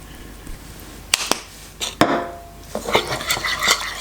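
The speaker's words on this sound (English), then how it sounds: "So, this is the sauce. I'm gonna stir it very well." Thai shrimp salad sauce stirred in a bowl, a few sharp clinks of utensil on dish followed by a quicker run of lighter taps and scrapes, close and clear, with no talking.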